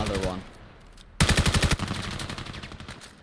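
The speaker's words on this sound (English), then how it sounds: "Nadix now left on his own and getting shot" Gunfire in a 5v5 competitive shooter match, a rapid burst of automatic shots followed by further crackling fire, loud and close, with a caster's voice talking underneath at the start.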